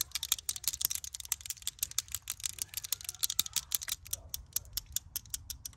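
A Tesla Model Y touch-up paint bottle is shaken hard by hand, giving a rapid, continuous rattle of close, crisp clicks in an even rhythm for several seconds with no talking.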